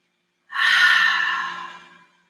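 A single deep yogic inhale drawn in through the nose during a breathing exercise, close and clear, swelling quickly then tapering off over about a second and a half, alone without talk.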